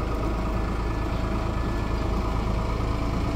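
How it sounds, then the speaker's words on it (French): The engine of a small tourist train running and idling outdoors, a steady low rumbling drone that holds at an even level throughout, with no voices over it. "ils ont démarré le moteur"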